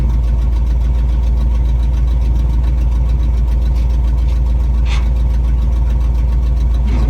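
An old farm truck's engine idles close by, a loud, steady low rumble with a continuous knocking pulse that holds unchanged throughout, a brief higher rattle briefly rising above it midway.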